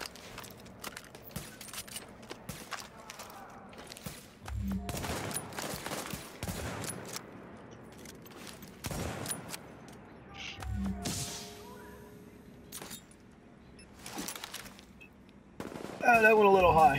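Video game gunfire comes in bursts of sharp shots and rapid automatic volleys, spread across the stretch with quiet gaps between them, louder toward the end, with a voice talking at times.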